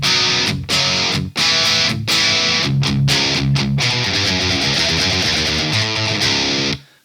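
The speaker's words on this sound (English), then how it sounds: "this is the tone without the distortion pedal turned on" Electric guitar played through a Fortin Zuul Plus setup with the distortion pedal bypassed, giving a loud, crunchy, mid-gain tone of chugging chords and short riffs with abrupt stops and a final cutoff.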